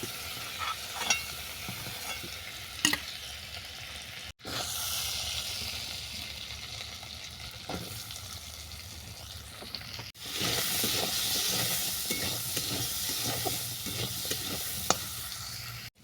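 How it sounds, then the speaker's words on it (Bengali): Potatoes frying in hot oil in a pan, a steady sizzle and hiss with occasional stirring scrapes, loud and close, cut by two brief gaps and growing brighter in the last few seconds. "এই তেলের মধ্যে আলুটাকে আমি আলাদা করে ভেজে নেব"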